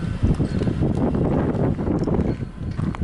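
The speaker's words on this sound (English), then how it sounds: "The wind, I hear it." Steady, rumbling wind buffeting the microphone, a constant broadband roar with gusty swells and no voices.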